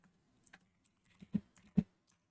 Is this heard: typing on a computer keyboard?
yes